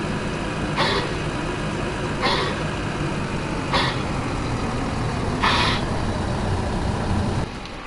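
A tractor engine in the Farming Simulator video game runs with a steady, continuous drone, with brief hissing bursts recurring at regular intervals over it.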